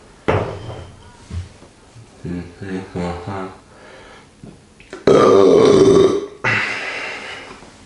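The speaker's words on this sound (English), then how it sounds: "I need to burp. Just give me a minute." Several loud, close burps, some short and grunting, ending in a long drawn-out belch followed by another shorter one.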